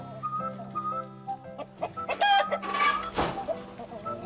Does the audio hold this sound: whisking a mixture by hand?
no